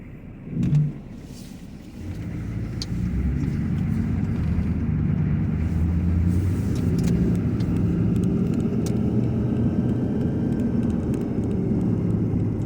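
A passing car on a private road builds from a low rumble into a steady, broad engine and tire roar that holds near and loud for most of the stretch, with no talking.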